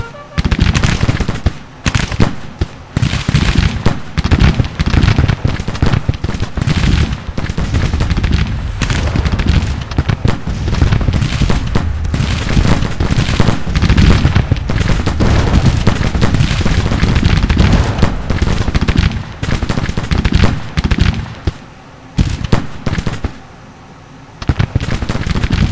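Civil War battle in the strategy game Grand Tactician, with dense rapid musket volleys and booming artillery crackling almost without pause, loud and close, thinning briefly near the end.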